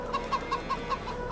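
Chickens in the Farming Simulator 22 video game cluck in a quick, regular series of short calls, clear and fairly close, with no other sounds on top.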